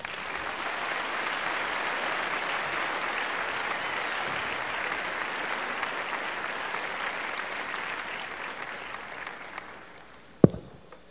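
Audience applause at a carnival awards ceremony, a sustained wash of clapping from a crowd that holds steady for about ten seconds and then fades, ending with a single sharp knock.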